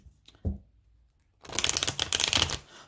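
Rider-Waite tarot cards are riffled once briefly, then shuffled in a longer, dense burst of quick papery flicks, close and fairly quiet.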